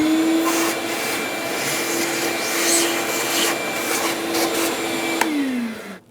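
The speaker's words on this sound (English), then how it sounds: "I have a vacuum that I'm going to vacuum this up with." A vacuum cleaner runs continuously with a steady whine and rushing suction, sucking up debris around the engine of a 3.6L Dodge Grand Caravan during valve cover gasket work, close and loud, pitch dropping as it shuts off at the end.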